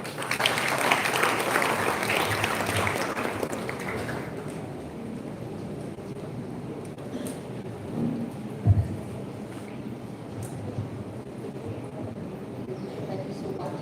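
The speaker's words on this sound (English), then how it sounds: "Keep applauding." Audience applauding a guest of honor at a college first-year induction inauguration, a broad wash of clapping strongest at the start that thins and fades, with some room noise and faint voices.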